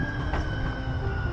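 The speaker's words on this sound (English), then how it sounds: "There's the train gonna pass me." A San Francisco Muni train rolls past nearby, a steady broadband rumble of wheels and motor with a faint tonal whine, continuous and fairly loud throughout.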